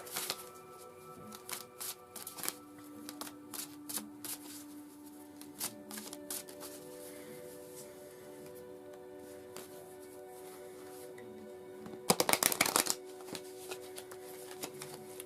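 Oracle cards riffle and flick softly and steadily at close range, with a louder, denser burst of shuffling near the end; no one speaks.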